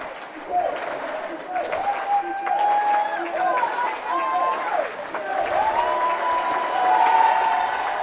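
A crowd at a high school boys' swimming sectional meet cheers and applauds steadily throughout, with a voice calling out over the noise.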